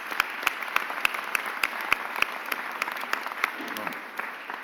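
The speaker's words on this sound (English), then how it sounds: "Give him a round of applause." Applause for a councilmember at a mayor's press conference, a small crowd clapping steadily and fairly close, with sharp individual claps standing out over the dense patter.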